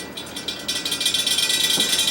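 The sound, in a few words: loose center cap rattling in the blade of a Bersted oscillating electric fan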